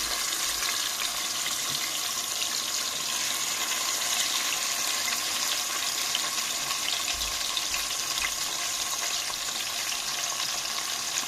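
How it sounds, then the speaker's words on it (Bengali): Marinated rohu fish head, rubbed with turmeric and salt, fries in hot oil with a loud, continuous bubbling hiss that holds evenly from start to finish without a break. "মেরিনেট করা হয়ে গেলে আমি মাছের মাথা তেলের মধ্যে শুরুতে ভেজে নিব"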